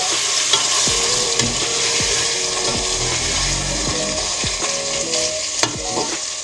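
Ginger-garlic masala fries in a pan with a constant sizzle while a spoon scrapes and stirs through it in repeated strokes, close and steady with no talk.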